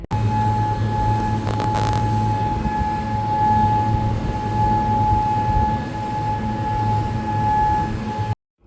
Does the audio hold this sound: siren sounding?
yes